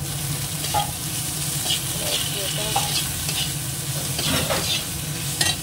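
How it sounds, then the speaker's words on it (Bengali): Spices sautéed in a pan with fried potato and green banana, a continuous loud sizzle with occasional stirring clinks and scrapes. "কষিয়ে নিই, ভাজা আলু আর কাঁচকলাটাও দিয়ে দিলাম"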